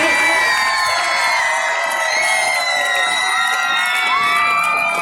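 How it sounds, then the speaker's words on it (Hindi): A large crowd of children and parents cheers and shouts excitedly at a school prize-giving event attended by senior officials, a loud, continuous roar of whoops and high voices from start to finish. "आप जोर से तालियां बजाते रहें"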